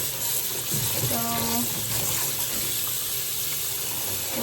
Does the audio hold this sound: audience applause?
no